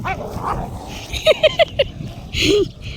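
A dog gives several quick high yips and barks in a short burst, followed by a longer whining bark, close by over background noise, out where goats are grazing.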